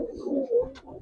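Pigeons at a Gribaz and coloring pigeon sale coo softly in short, low bubbling phrases over about a second, close by, with faint background chatter.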